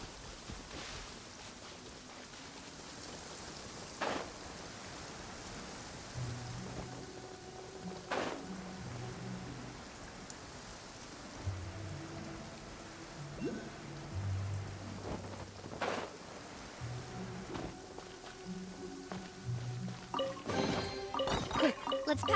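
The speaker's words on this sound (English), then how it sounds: "It's raining again." Steady rain patters across the ground in the Genshin Impact video game, a continuous hiss with occasional sharper drops, mixed with soft game music notes and faint thunder-like rumbles.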